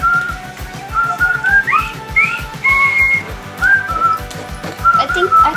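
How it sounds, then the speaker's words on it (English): A person whistles the tune of The Bridge Over River Kwai in clear, bright, melodic phrases, loud and close, over a steady rhythmic background beat. "What's the whistle song, The Bridge Over River Kwai?"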